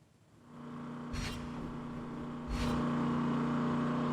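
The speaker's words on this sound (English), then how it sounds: "that is a machine that is being used to drain the water where I'm standing right now" A water drainage pump runs steadily in a flooded area after heavy rain, a continuous droning machine hum with a couple of brief hissing bursts, close and unbroken, with no voices.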